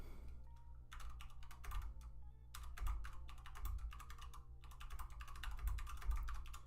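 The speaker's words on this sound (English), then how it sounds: "Type it out." Rapid typing on a computer keyboard during a live trading session: a steady clatter of close key clicks in bursts, over a low constant hum, with no speech.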